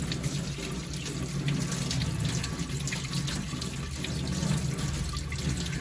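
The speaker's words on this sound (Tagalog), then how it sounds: "Huhugasan ko lang siya" A tap runs steadily into a sink as a milk tea straw is rinsed beneath it, a continuous close splashing hiss with no pauses.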